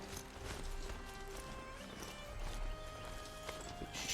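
A robot horse mount in the video game Horizon Zero Dawn clip-clops along steadily, its hoofbeats rhythmic and faint under a game soundtrack with sustained tones.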